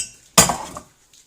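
Ceramic bowls and dishes clatter and clink as one is pulled out in a home kitchen, a single sharp burst of rattling that fades within half a second, close and fairly loud with no talk.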